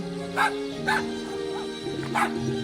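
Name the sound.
dog barking in video game Homescapes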